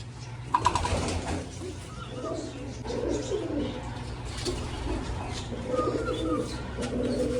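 Pigeons coo softly in repeated low, throaty phrases, with a few wing flutters and faint background murmurs nearby.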